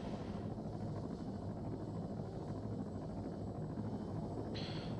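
Helicopter hovering in the ARMA 3 game with small flight corrections, a steady dense rotor and engine drone that stays loud and even throughout, with no speech.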